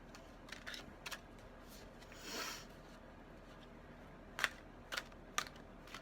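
Tarot cards shuffled by hand, quiet close papery riffles and soft slaps in short bursts, with sharper taps toward the end in a hushed room.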